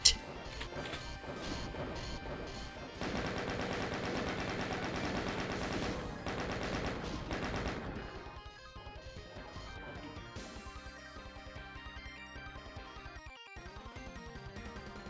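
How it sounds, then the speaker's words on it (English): Rocket launcher explosions in the Doom mod The Mean Green 2, a dense, loud barrage of crashing blasts and impacts that thins out midway into sparser hits over lingering game sound. "it definitely is a rocket launcher somewhere"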